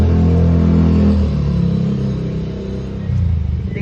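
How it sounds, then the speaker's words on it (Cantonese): A motorcycle engine passes along a street outside a home where a stray cat is being fed, its steady mid-range rumble loud at first, then easing off and swelling again near the end. "點解成日聽到呢架咁嘅電單車聲嘅"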